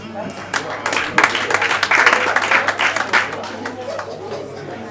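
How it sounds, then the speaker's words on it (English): An audience at a 2022 Wemy Industries distributors' conference award presentation breaks into brief, uneven clapping that swells and fades over chatter and voices in the hall. "Let's clap for them, please, ladies and gentlemen"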